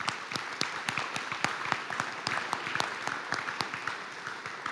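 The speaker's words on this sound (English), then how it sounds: "Please give them a round of applause." Scattered, sparse applause at a school board meeting for conference and state qualifying athletes, individual claps clearly separated in an uneven rhythm, moderately close and not very loud.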